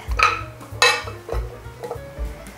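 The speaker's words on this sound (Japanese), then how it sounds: "お鍋に人参を入れて" Carrot pieces clatter into a metal pot in a few quick bursts, with clinks and thuds close by.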